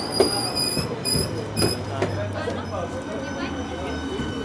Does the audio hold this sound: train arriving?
yes